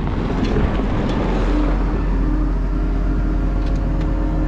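A wheel loader engine runs steadily at a feedlot during corral repairs, a loud continuous low rumble with no pauses.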